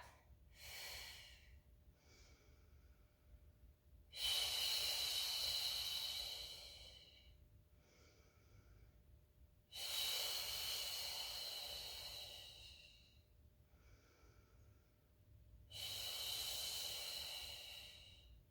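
Heavy breathing during a Pilates plank in a garage gym mat class: three long, forceful exhales, each lasting a few seconds, separated by quieter inhales, close and clear with no talking.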